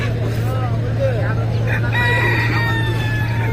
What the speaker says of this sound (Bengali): এই মুরগি গেল,